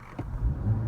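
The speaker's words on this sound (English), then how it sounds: "Let's rev that." A 2016 Lincoln MKC engine idles low and rough, then its rumble swells briefly as it revs, steady and fairly close with no voices.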